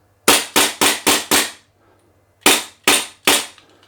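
Sharp, close cracks from a G&G GTP9 gas blowback airsoft pistol dry-firing without BBs: a quick string of five shots, a short pause, then three more, each snappy report followed by a brief decaying tail.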